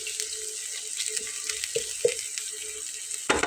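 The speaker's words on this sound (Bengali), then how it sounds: "তেলটা কিন্তু একটু ফাটতেছে।" Hot oil with ground onion and garlic paste splutters in a pan, with a steady faint sizzle broken by a few sharp pops and a louder crackling burst at the end.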